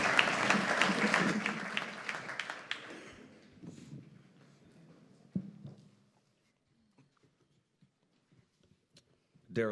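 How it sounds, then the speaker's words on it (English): A church congregation at a Sunday service applauds a speaker, a loud burst of clapping from many hands that fades over a few seconds into a quiet room with scattered taps and shuffles. "Let's give Daryl a hand."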